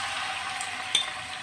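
Liver pieces hit a pan of melted beef fat, giving a steady broadband sizzle with one brief louder crackle near the middle, close and continuous with no talking.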